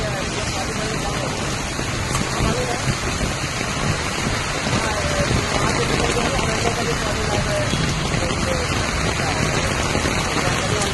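Heavy rain pours on a street in Ghatkopar East, a steady, dense hiss that fills the whole stretch, with traffic rumbling underneath and a voice talking over it.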